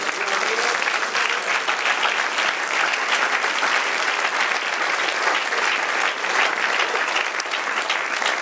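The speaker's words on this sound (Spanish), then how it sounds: "Den un aplauso al Señor." A church congregation applauds steadily during a sermon, dense, even clapping from many hands sustained across the whole stretch without pause.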